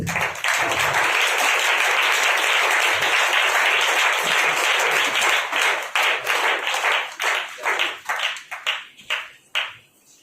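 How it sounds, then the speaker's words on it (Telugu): A church congregation at an evening worship gathering applauds loudly to welcome a speaker, with dense sustained clapping that thins into scattered individual claps before stopping. "ప్రతి ఒక్కరు కూడా చప్పట్లు కొడుతూ వారిని ఆహ్వానించడం"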